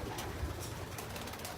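Pigeons coo steadily in a racing pigeon loft in Florida, a continuous low murmur of birds close by with no talk over it.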